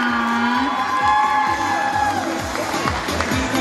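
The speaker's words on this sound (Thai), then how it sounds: "ขอเสียงประมือให้กับน้องๆทุกๆท่านด้วยนะคะ" An audience at a 70s-themed fashion show contest cheers and shouts loudly with some clapping mixed in, a lively burst of voices over rhythmic thumping.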